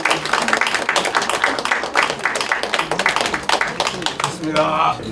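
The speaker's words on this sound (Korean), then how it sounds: "저 박수 한 번 쳐주시겠습니까?" At a Korean church service of thanksgiving for installing denomination leaders, held in a hotel ballroom, a crowd claps steadily together while voices talk through the applause.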